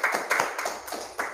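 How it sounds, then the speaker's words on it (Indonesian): A brief burst of clapping from a few people, uneven and close, fading after about a second. "Ya, kasih tepuk tangan."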